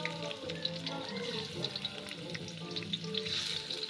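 Fish dropped into a pan of sautéed aromatics for Filipino tinola, sizzling steadily with stirring and scraping noises throughout, close and fairly loud, no talking.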